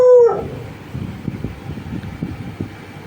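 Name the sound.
dog barking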